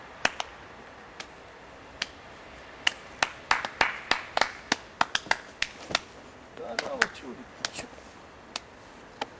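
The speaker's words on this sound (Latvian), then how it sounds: "Aplausi!" Scattered individual claps and hand smacks ring out close by from a small show audience greeting a guest, irregular sharp strikes with brief gaps, some clustered, not a sustained ovation.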